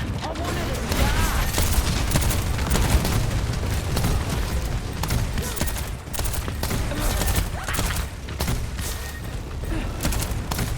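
Overwatch 2 gunfire aimed at Hammond comes as rapid, dense bursts of shots and booms that are loud and keep going, mixed with game effects.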